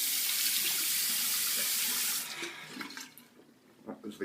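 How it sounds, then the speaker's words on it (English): Tap water running into a sink for a cold rinse after shaving, a loud steady gush for two seconds, then cut to quieter splashes and drips. "we're going to rinse again with cold water."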